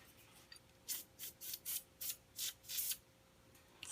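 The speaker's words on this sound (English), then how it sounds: "I'm going to go ahead and spray it again." Light spray bursts of liquid onto enamel work during sgraffito, about seven short, close hissing puffs in quick succession over a quiet background, with no talking.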